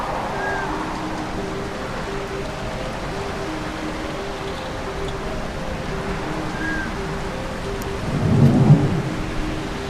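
Rain falls steadily with a low rumble of thunder swelling near the end, amid faint tonal game music in the video game Retropolis 2.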